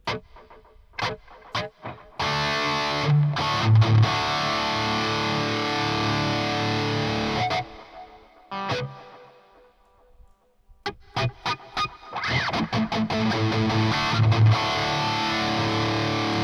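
Electric guitar soloing with heavy distortion, delay and reverb at a fast tempo, sustained loud phrases broken by a short quiet gap near the middle before the playing resumes.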